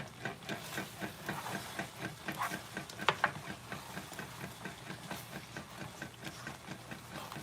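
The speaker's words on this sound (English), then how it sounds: "Give it another stir." A pot of smoky chipotle mac and cheese pasta being stirred: a soft, rhythmic squelch and scrape of thick sauce at a steady pace, with a faint low hum underneath and no talking.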